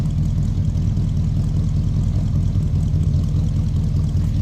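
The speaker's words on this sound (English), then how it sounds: "Nice little rumble coming out of 318" A 1966 Plymouth Fury III convertible with a 318 V8 idles steadily, giving a continuous deep low rumble at a constant level throughout, with no voices.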